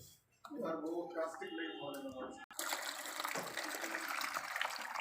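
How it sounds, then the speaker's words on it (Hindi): Water run into a plastic tub to wash it, a steady close splashing rush that starts halfway through, after a person talks at first. "इस प्लास्टिक के टब को अच्छी तरह से हम वॉश करेंगे पानी के साथ"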